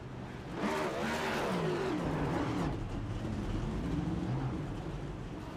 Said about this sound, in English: He'll be able to do some burnouts here on the front stretch.